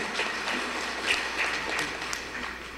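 An audience claps at a Tamil pattimandram comedy speech event, a dense, steady wash of applause that lasts throughout, with some voices mixed in.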